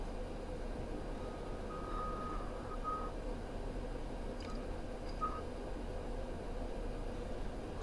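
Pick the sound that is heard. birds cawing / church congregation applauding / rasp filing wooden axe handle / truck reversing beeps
truck reversing beeps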